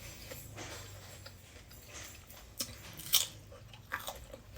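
Someone bites into and chews a crisp Ok Rong mango, with faint, irregular crunching and chewing under soft background noise and a sharper bite near the end.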